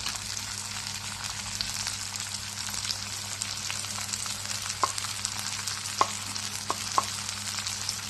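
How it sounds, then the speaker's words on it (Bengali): Chopped garlic frying in oil in a pan, a steady close sizzle with a few sharp clicks of a utensil against the pan near the end. "রসুনটা একটু ভাজা ভাজা হবে"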